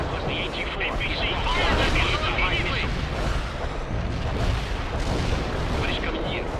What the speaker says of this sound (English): I need to use all of my ATGMs onto the M1. Fire!